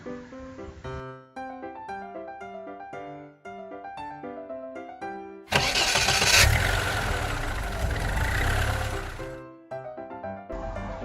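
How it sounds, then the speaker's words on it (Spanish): A car engine roars for about four seconds, loud and close, between stretches of light instrumental children's music. "coche,"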